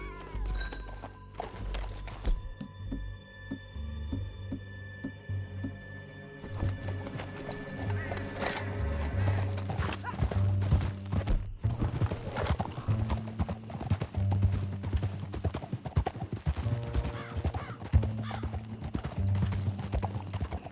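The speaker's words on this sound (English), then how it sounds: "Back on your horse, let's get after them." Horse hooves clip-clop at a gallop in Red Dead Redemption 2, a steady rapid rhythm running under game music and effects, with occasional whinnies and a short quieter stretch early on.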